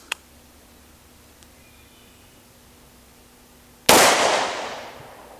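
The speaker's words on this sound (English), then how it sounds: "I think the shotgun went first" A Bond Arms Rough and Rowdy derringer chambered for .410 shotgun shells and .45 Long Colt fires one loud, sharp shot after a long quiet pause. The blast rings and fades over the next second, and a small click comes earlier.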